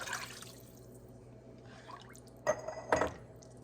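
Water is poured into a jar for homemade taco soup, with a couple of short, close splashing pours and some glassy clinks near the end over a quiet kitchen background.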